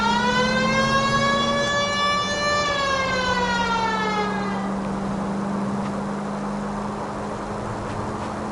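A police car siren wails in the video game L.A. Noire, a loud, close rising-and-falling electronic tone that sweeps up, then settles into a steadier drone over a noisy backdrop, with no talking.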